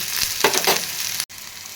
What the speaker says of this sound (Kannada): ಈ ಉಳ್ಳಾಗಡ್ಡಿನ ಚಲೋ ಎಣ್ಣೆ ಒಳಗೆ ಫ್ರೈ ಮಾಡ್ಕೊಂಬಿಡಂತೆ